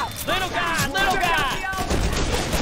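Left 4 Dead gunfire crackles in quick repeated shots under overlapping shouting voices, dense and close throughout the short stretch.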